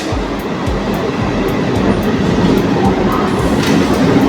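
A local train between Sealdah and Howrah rumbles steadily nearby with rhythmic clickety-clack of wheels over rail joints, loud and continuous throughout.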